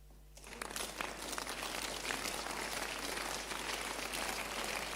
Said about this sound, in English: stop clapping, let me give it to you